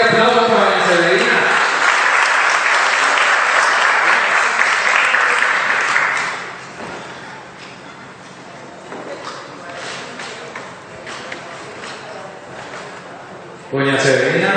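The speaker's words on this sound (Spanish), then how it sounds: "Un fuerte aplauso para doña Severina." Audience applause for Doña Severina Velasco Ocampo at a spiritual seminar, a loud, dense burst of many hands clapping for about six seconds before it drops to a quieter murmur of room noise.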